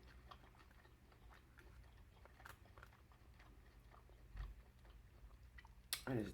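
Chewing on a bite of seafood boil with crab, lime and egg, soft repeated mouth clicks and squelches close to the mic over low room hum, ending with a brief louder rustle.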